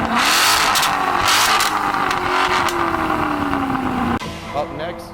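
Loud, sustained exhaust roar from a car fitted with a full stainless steel Meisterschaft exhaust, the pitch sweeping steadily downward as the revs fall, then cutting off abruptly into a lower idle.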